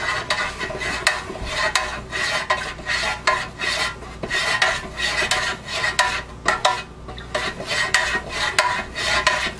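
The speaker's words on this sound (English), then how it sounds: "So we're going to stir." Melted candle wax with added fragrance stirred in a pot, a steady series of scraping, rasping strokes close up, rhythmic and continuous with no talk.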